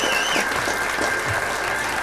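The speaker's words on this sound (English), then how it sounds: "Let's give them another round of applause here, and let's bring Cindy out." Audience applause at a live Bigfoot show, steady and loud for two seconds with a faint whistle riding over the clapping crowd.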